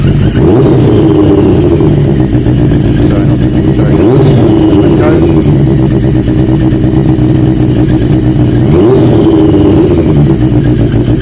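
A motorcycle engine idles loudly and blips its revs a few times, dropping back each time, with someone speaking briefly over it.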